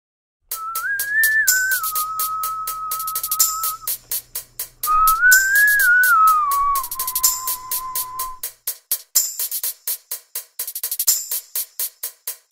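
Melodic whistling in a song, a bright sustained tune in two long phrases over a steady plucked, ticking rhythm that continues alone after the whistling stops.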